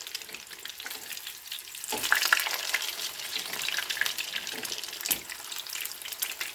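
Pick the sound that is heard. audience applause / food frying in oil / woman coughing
food frying in oil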